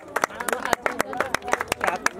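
At a wedding varmala ceremony, a group claps in quick, sharp, irregular bursts close by, with voices chattering underneath.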